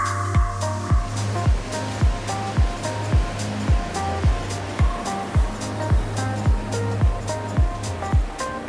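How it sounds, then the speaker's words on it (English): Steady rhythmic pulses of surf on a beach at Padang, Indonesia, each burst repeating about every half second over a constant low rumble, loud and close, no voices. "We only heard the noise of the insects and then the crashing waves."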